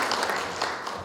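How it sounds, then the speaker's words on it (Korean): Audience applause at a youth policy forum in Gongju, a short burst of dense clapping filling the room at steady, moderate loudness. "박수 한번 더 주십시오."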